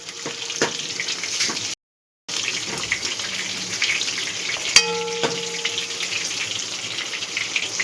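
Chicken balls fry in oil over a medium flame with a continuous close sizzle. It drops out for a moment, then carries on, with a single metallic clink of a utensil partway through.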